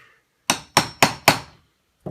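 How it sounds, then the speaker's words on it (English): A bigger metal punch is struck with a hammer to enlarge a hole while making a wooden cutting board: four sharp, evenly spaced blows close by, then a fifth after a short pause. "you come back with the bigger punch, make that hole a bit bigger"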